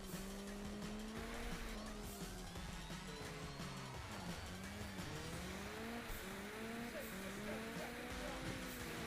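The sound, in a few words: car sliding and tire squeal in racing video game Juiced 2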